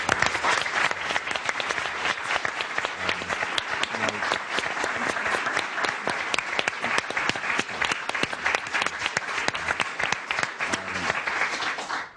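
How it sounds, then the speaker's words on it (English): A studio audience at a television talk show breaks into sustained, steady applause, many hands clapping densely and evenly throughout at moderate volume with no talking. "Just another round of applause for your"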